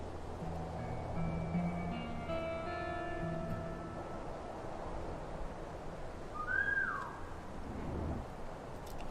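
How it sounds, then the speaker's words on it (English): A soft whistle used as a lure for guards in the WWII stealth strategy game War Mongrels, heard as a short rising-falling tone over steady ambient game background with faint tonal music. "The whistle ability works pretty good when they're all separated"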